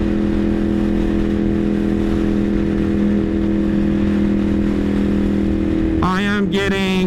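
A motorcycle engine cruises steadily in sixth gear at highway speed, a constant droning hum with wind rush, before a voice begins speaking near the end.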